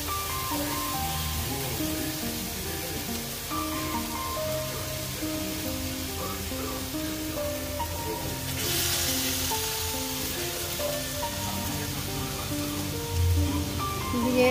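Potatoes go into a frying pan of cooked-down masala for a Bengali fish curry, setting off a steady, fairly loud sizzle and crackle that holds throughout, with a brief burst of hiss partway through.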